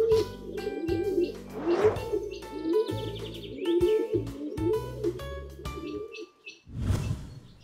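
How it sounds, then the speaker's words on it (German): Carrier pigeons in an outdoor pigeon loft coo continuously in a rolling, layered chorus, close and fairly loud, with some chirps and background music underneath. "Du hast hier so viele Tauben."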